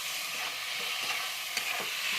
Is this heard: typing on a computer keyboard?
no